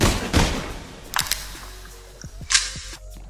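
Gunshots from a street-crime video game, a scattered handful of sharp cracks spread across a few seconds with a quiet hum between them, fairly close and with no voices.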